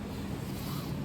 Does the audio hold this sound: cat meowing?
no